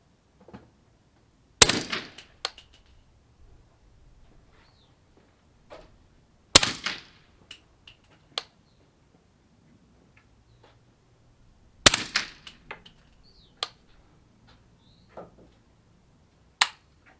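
A 300 Blackout rifle firing 220-grain handloads with H110 powder at 50 yards, four sharp, loud gunshots spaced about five seconds apart, each with a brief echo tail, and quiet outdoor ambience between them.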